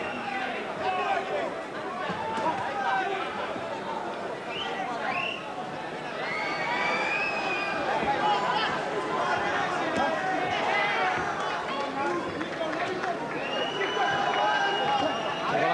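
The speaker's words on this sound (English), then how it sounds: "Hamed trying to shut the boos of the crowd out of his mind" A large indoor boxing crowd roars and murmurs continuously, booing, with rising and falling jeers and whistles, loud and dense throughout with no single voice standing out.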